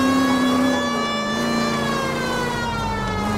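A police car siren wails continuously in the LA Noire video game, a loud, close, steady tone with rich harmonics and a slight downward drift, sounding alone without speech for the whole stretch.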